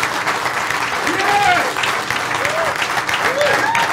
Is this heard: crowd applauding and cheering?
yes